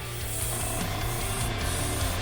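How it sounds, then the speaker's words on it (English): An airbrush or spray can hisses steadily while paint is sprayed onto the nacelles of a 1:350 Enterprise refit model kit, a continuous close-up spray with a low mechanical hum underneath. "let's get spraying."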